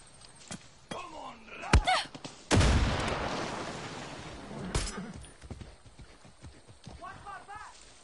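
Horse hooves in the game Far Cry 6, irregular clopping thuds mixed with loud gunfire bursts and a rumbling blast, while someone talks over the action.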